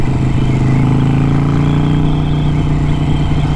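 A Harley-Davidson Sportster 1200 Iron engine runs loud and close, revving with a steady low throb and clattering mechanical texture that holds through the whole stretch without pause.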